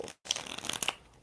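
A deck of tarot cards riffles through a brief, crisp shuffle, close and fairly quiet with a short pause near the start.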